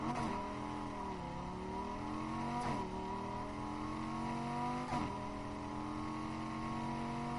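A car accelerating in a PS4 racing game, its engine whine climbing steadily through the gears with two brief shift dips, loud, close and continuous with no talk.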